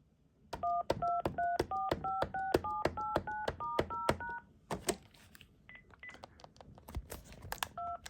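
A telephone keypad beeps out a rapid series of DTMF dialing tones on a pretend phone line aboard an airplane, evenly spaced two-tone beeps followed by a few scattered clicks and higher tones.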